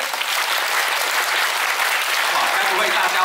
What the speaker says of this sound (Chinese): 我们再给我们的弦乐团一个热烈的掌声。